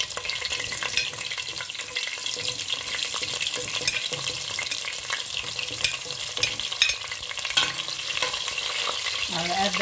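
Green chilies sizzle and fry steadily in a pan for tripe curry, a dense hiss broken by a few stirring scrapes, close and fairly loud without any voices.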